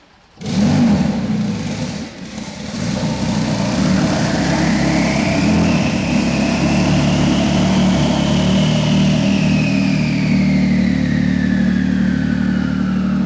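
A Porsche 992 Turbo S, converted to about 1500 bhp, fires up with a loud bark, then settles into a steady, loud, close idle that holds evenly for a long stretch while warming up.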